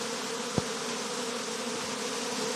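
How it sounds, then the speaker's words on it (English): A swarm of honey bees buzzes in a continuous, dense drone, close and steady, with one brief sharp tap early on. "Completely covered in bees,"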